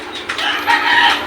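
A rooster crows on a rooftop near a pigeon loft, a loud, close call sustained for just over a second.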